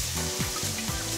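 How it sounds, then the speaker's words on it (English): Sautéed vegetables for a spicy coconut soup base sizzle in a hot pan, a brief steady close hiss with faint scraping. "Can't beat this sizzle. It's important that your pan sizzles when you're cooking."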